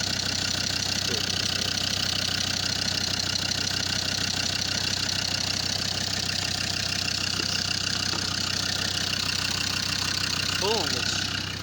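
A car engine with coolant stop leak added runs steadily at idle with the radiator cap off, a continuous even hum with a faint mechanical tick throughout and no talking.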